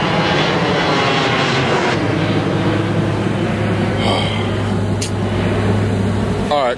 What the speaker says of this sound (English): Oh crap, here goes a plane.